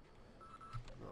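Electronic beeping in the Half-Life video game, short tonal pulses sounding faintly over a low, murky background, brief and quiet.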